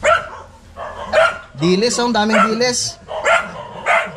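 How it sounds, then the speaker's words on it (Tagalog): A puppy gives a few short, high barks and yips in quick bursts, heard close and mixed in with people talking nearby. "Ay, ang cute ng tuta."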